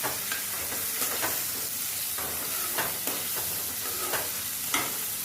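Tomatoes sauté in a pan for a Tirunelveli-style egg curry. A steady hissing sizzle runs throughout, broken by periodic scraping stirs of a spoon against the pan.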